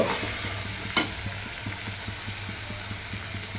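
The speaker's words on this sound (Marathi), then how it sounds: "आता हा कांदा परतू राहिलो" Onion sautéing in a pan for a chicken biryani, a close, steady sizzle with rhythmic stirring taps and scrapes and one louder clatter early on.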